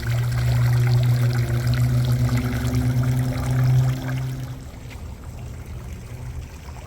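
Water flows steadily in a shaded hotel courtyard water feature, a continuous splashing wash that fades and thins out partway through, with no talking.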